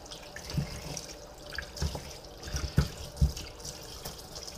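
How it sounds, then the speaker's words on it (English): Raw chicken wings rinsed under a running kitchen tap, a steady soft stream of water with several distinct splashes and drips as the wings are turned, fairly quiet and close, no voices. "first thing is we're going to wash these thoroughly"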